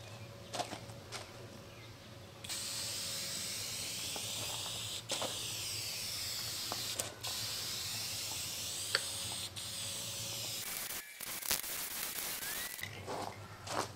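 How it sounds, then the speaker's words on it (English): Spray paint hisses steadily onto a homemade spoon display case, a long continuous close spray with brief pauses and a short break near the end, no talk. "time to unclamp all this and give it a coat of paint"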